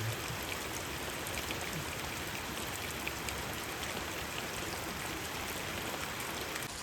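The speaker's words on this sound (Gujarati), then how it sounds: "કેવો વરસાદ મિત્રો પડે ચોમાસામાં આવતો એવો" Steady, dense monsoon rain pours down without pause in a village, a continuous broadband hiss of drops striking surfaces, loud and close throughout with no voices.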